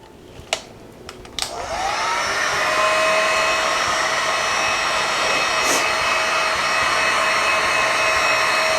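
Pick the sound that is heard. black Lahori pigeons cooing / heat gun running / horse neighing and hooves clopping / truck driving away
heat gun running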